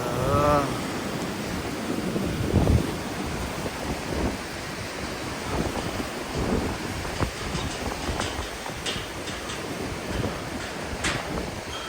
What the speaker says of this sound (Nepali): पानी बगेर आएको छ।